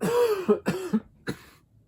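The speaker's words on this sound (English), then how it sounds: "that wasn't a sneeze, that was a cough" Two or three short, close coughs, rough and throaty, followed by a brief pause and a final smaller cough.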